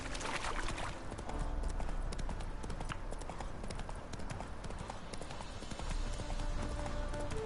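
Steady hoof clip-clops of a horse on a hard surface in The Witcher 3: Hearts of Stone, continuous and fairly close, over a busy ambient background.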